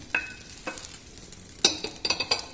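Raw mango pieces, already sautéed, being stirred in a pan: a few short scraping clicks and soft stirring taps, with a burst of quicker utensil strokes near the end, fairly quiet and with no talking.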